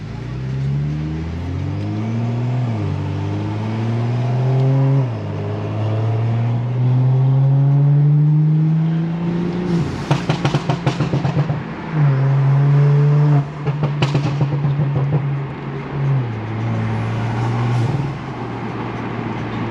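A tuned BMW N55 engine with an exhaust valve revs loudly up through the gears while driving, with rising engine tones, sharp crackling shifts and pops, then settles near the end.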